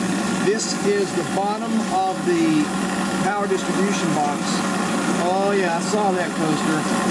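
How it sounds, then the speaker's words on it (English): CNC machine with a shear hog cutter hollowing out an aluminum box, giving a steady loud machining roar with whining tonal sweeps rising and falling throughout, while people talk over it. "we'll watch it hollow this out with the shear hog."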